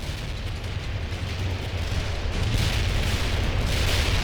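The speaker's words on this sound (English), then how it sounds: "Artillery barrage turned to target." An artillery barrage in the World in Conflict video game gives a dense, continuous rumble of explosions that swells slightly louder toward the end, with no voices.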